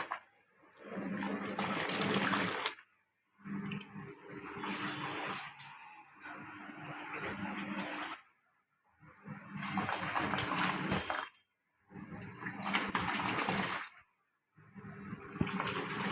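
Water gushes into a new Thomson washing machine as it fills, in loud bursts of several seconds separated by short silent gaps, close up.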